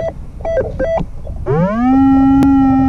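A Rutus Alter 71 metal detector with a 23 cm coil sounds a steady, clean target tone over a buried lead seal, a sustained rising then level beep after a few short chirps from sweeping, outdoors in a field.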